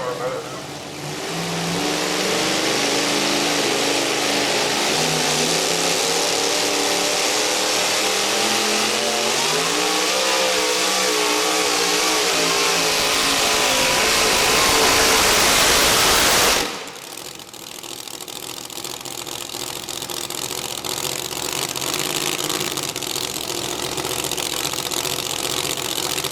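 A Hemi-engined pulling vehicle at a truck and tractor pull roars at full throttle, its loud rising engine scream building for about sixteen seconds before dropping off abruptly, with a lower engine rumble and a voice continuing afterward.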